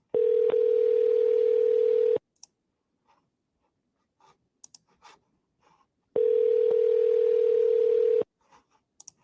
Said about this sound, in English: let's give him a call. Let's see if the agent picks up.